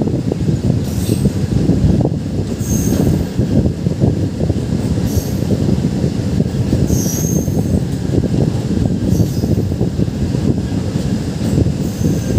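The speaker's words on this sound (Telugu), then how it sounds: "మన ట్రైన్ 2 నెంబర్ ప్లాట్ఫామ్కి ఎంటర్ అయింది." A Nizamabad–Kacheguda passenger train rolling into platform 2 at Mirzapalli railway station, heard from on board: loud continuous rumble of wheels on rails with intermittent high squeals, steady throughout.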